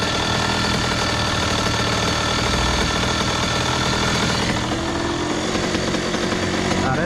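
A 2001 Honda CR80 two-stroke dirt bike engine runs steadily at idle, loud and close, with a continuous buzzing rumble that shifts slightly partway through as the idle is adjusted.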